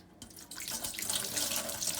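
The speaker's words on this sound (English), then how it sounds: "that is going to pretty quickly drain everything on the inside" Water from a foot spa draining out through its attached hose, a steady broadband rush and splash that starts quietly and quickly swells into a continuous flowing stream, alone with no voices.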